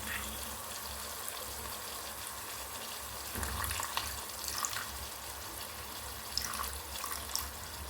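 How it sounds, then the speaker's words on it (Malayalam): Apple cider vinegar poured into prawn pickle during home cooking, a soft steady stream of liquid with faint splashing, fairly quiet and unaccompanied by talk. "ആപ്പിൾ സിറപ്പ് വിനീഗർ ഒഴിക്കും."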